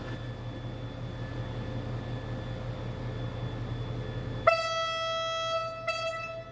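Two QSY diesel locomotives hauling CNR coaches idle with a steady engine hum at Don Mueang station, then a loud multi-tone train horn blasts twice, first long and then short.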